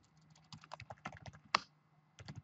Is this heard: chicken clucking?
no